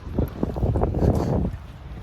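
Gusty wind at a beach buffets the microphone in a steady low roar, swelling and easing over a couple of seconds before dropping slightly at the end.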